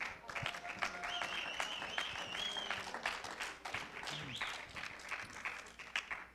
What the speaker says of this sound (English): If we can just do a round of applause to invite those still out in the lobby to come back in.